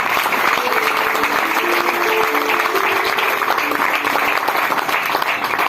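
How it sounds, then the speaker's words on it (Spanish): Church congregation applauding in thanksgiving during a Spanish-language sermon, loud sustained clapping filling the whole stretch, with voices and sung tones faintly mixed in beneath. "Vamos a darle un aplauso al Señor, para darle gracias por su fidelidad."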